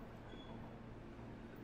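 A Tokyo Metro 10000 series train at Toyosu station gives a steady low rumble, loud and continuous, like a train moving through the platform with no pauses.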